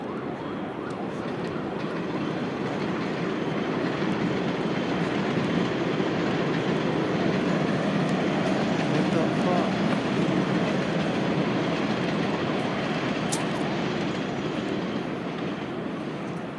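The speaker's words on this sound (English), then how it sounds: "there's going to be a lot of trains" A train rolls past nearby in a long, steady roar of wheels on rails with a faint clatter, holding loud and even throughout.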